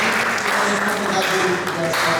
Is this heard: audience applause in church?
yes